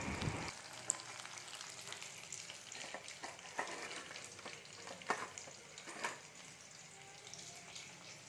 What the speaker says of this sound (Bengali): তো সেটা এখন ভেজে নিচ্ছি